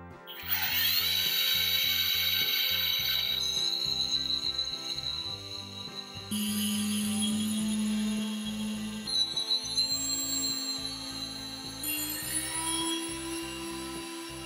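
Stepcraft HF500 milling spindle spinning at several speed settings, a loud steady whine that jumps to a new pitch every few seconds. Motor hum sits underneath, with no voices.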